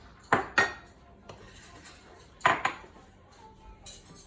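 Metal spoons clinking against a bowl while folding homemade rum and raisin and grapenut ice cream, with a few sharp clinks in two quick pairs and a faint tap between them.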